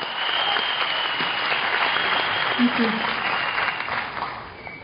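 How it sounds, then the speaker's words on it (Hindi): Steady applause from a crowd, a continuous wash of clapping at moderate loudness that tapers slightly toward the end. "मैं चाहूंगा एक बार जोरदार तालियां फॉर हेतल"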